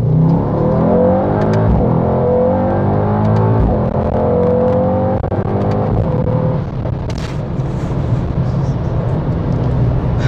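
A Mercedes-AMG GT 63S 4-door with all-wheel drive accelerating hard: a loud, close engine roar climbing steadily in pitch through the gears, with brief shift breaks and a rising whoosh toward the end.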